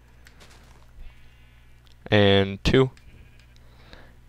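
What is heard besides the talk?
sheep bleating in a video game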